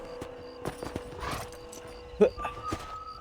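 Horse hooves clip-clopping in the video game Red Dead Redemption, a few uneven hoof knocks with a brief snort, game sounds and voices mixed in.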